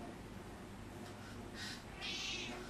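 A quiet cat gives two soft meows close by, the second one longer, over a low background hum.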